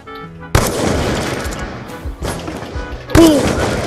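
Gunfire rings out in Black Ops 2 during a one-on-one match: three loud, sharp shot bursts with ringing tails, close and dominant.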